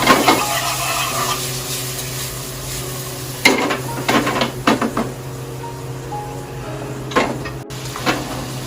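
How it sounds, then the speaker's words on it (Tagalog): Pork with shallot and garlic sautéing in a pan, a steady close sizzle broken by several scraping stirs of a utensil against the pan. "isotayin nyo muna yung pork, yung sa shallot tsaka sa garlic hanggang sa mag-brown lang siya ng konti"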